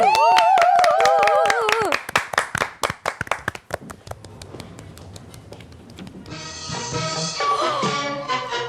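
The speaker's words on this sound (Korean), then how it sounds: "야 그럼 박수를 우린 청해야 되겠네, 그죠?" A television studio audience claps in unison just before a hometown-song medley, a run of rhythmic claps that follows a sung note and tails off. Music then comes in.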